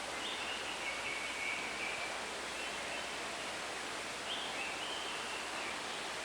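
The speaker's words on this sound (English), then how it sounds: "We're on a mountain, and we're right alongside a river with a waterfall right there at the end." A waterfall and river run through a mountain-style zoo habitat, making a steady, even rush of falling water with faint bird calls above it and no talking.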